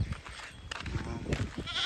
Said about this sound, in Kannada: ಬರೀ ಎರಡು ಕುರಿ ಇಷ್ಟು ಒದ್ದಾಡ್ಸ್ಕೊಂತ ನಮ್ಗೆ.